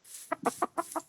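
Minecraft chicken clucking, five quick rhythmic clucks in a tight burst, clear and fairly close with no talk over them.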